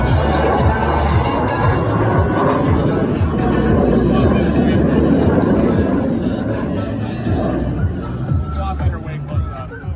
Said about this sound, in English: As each aircraft accelerates to 500 miles per hour, they will perform a half-Cuban 8 reversal turn.